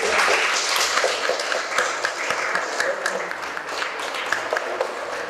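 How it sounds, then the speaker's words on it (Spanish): Wedding guests applaud at a ceremony in Cuernavaca, Morelos, a steady wash of many hands clapping throughout, moderately loud and close, with some voices mixed in underneath. "Un aplauso a la que ha sido."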